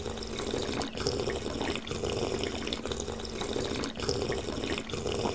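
A steady rush of shower water runs continuously at close range, dense and hissing with faint splashing variations, with no talking.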